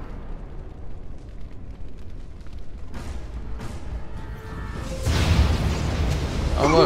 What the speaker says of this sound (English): Oh look, a fireball.